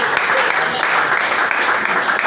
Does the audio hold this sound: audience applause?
yes